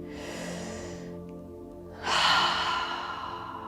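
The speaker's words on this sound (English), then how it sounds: "you can take a nice deep breath." One slow deep breath during a guided meditation: a long, soft inhale, then a brief pause and a louder, airy sigh-like exhale. It is close and quiet, with no talk.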